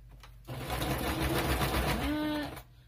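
Sewing machine running a zigzag stitch on a junk journal craft project, a steady fast mechanical whirring and rhythmic needle chatter lasting about two seconds, close and alone.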